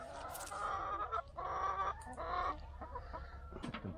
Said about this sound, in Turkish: Limon yiyen tavuklar.